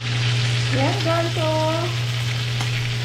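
Smoked milkfish (bangus tinapa) fries in a pan with a steady hiss and sizzle, joined by a few brief chirping tones over a low hum.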